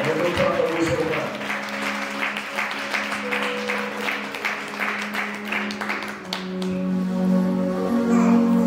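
A church congregation claps and cheers for the Lord at a service held at a women's prison. The applause is loud and steady, with voices shouting through it and a sung or sustained tone coming in near the end.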